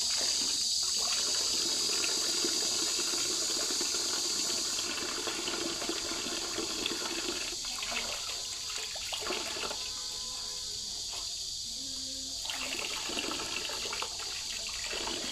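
Water runs steadily from a tap while something is washed and scrubbed under the stream, a continuous close splashing with softer rubbing noises breaking through, and no voices.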